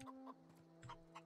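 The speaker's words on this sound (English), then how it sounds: "Oh, chicken." Several short, quiet chicken clucks from The Outer Worlds come in quick bursts over a low hum and soft game music.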